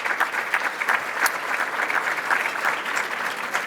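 An audience at a Hispanic Chamber of Commerce executive event claps in a steady, moderately loud round of applause, dense and even, with no voices over it.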